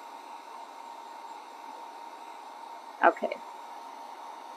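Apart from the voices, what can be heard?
hair dryer drying a Dollar Tree craft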